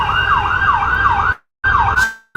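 An ambulance siren outside in Ringgold wails loudly and close in a rising-and-falling cycle, cuts out abruptly, then returns briefly before fading.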